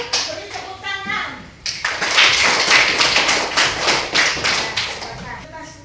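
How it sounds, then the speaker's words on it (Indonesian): Schoolchildren in an elementary classroom burst into steady, rhythmic hand clapping that fills about four seconds, preceded by brief voices at the start. "Beri tepuk tangan."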